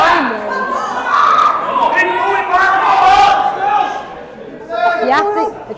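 Crowd at a strongman competition, the Haynes Farm Open, shouting and cheering for an athlete, a dense roar of many voices rising and falling with excited yells, loud and sustained throughout with a commentator talking over it.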